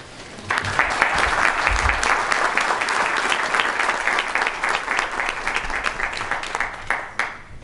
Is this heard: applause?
yes